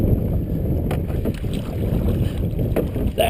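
A canoe out on a lake at North Beach, Burlington, Vermont, with choppy water and wind; steady water wash and wind rumble fill the clip continuously at close range, with occasional paddle splashes and no speech.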